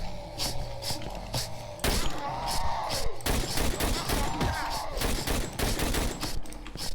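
Rapid bursts of gunfire from a weapon in the horror game Cry of Fear, loud close shots cracking in quick repeated volleys with short pauses between bursts and no talking.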